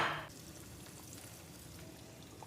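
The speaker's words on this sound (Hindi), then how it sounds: "इसी तरह से मैं दूसरा पीस लेके इस तरह करूँगी और ऑयल में डालती जाऊँगी।" Chicken pieces sizzle steadily in hot oil in a frying pan for a crispy chicken burger, with a brief louder splash at the start and then an even, continuous crackle close by.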